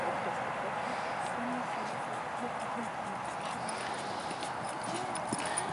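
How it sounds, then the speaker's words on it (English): Horse cantering fast with steady rhythmic hoofbeats under a continuous broad rush of wind or ground noise, moderately near, with no talk. "There's his canter, and he's fast."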